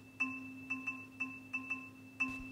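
Two interleaved streams of short electronic beeps from a maths app, sounding a 3-against-4 polyrhythm, about seven clean tonal pips over a steady hum, with the first and last beats coinciding as louder accents.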